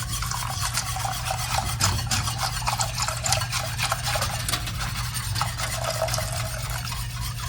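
Hot chocolate with milk is stirred in a pot, a steady scraping, rubbing swirl that runs close and continuous throughout with a low hum beneath.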